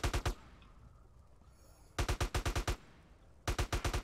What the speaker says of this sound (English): I accidentally shot our teammate.